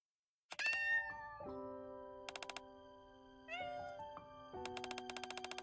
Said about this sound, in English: Cats start to gather near her.